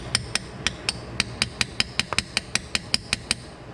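Rapid, evenly spaced metallic taps as a socket extension strikes a Subaru transmission, about twenty sharp strikes in a steady rhythm, close by with a low mechanical rumble underneath.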